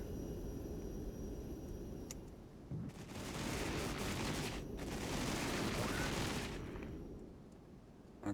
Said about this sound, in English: So now I'm going to bring in this artillery